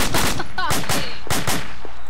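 A .50 cal machine gun fires in ArmA 2 with the ACE mod, giving loud, close, rapid bursts of heavy automatic fire across the whole moment, with a brief voice underneath.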